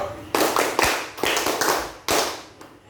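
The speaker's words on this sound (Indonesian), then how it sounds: "Kita tepuk 1, 2, 3." Classroom hand claps in a counted rhythm, sharp and close: a single clap, then two, then three quick claps, with a short gap between each group.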